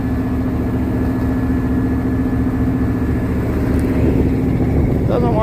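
An old Chevrolet Suburban idling steadily up close after its first start in years, a low even engine drone with a faint whine, while people talk over it.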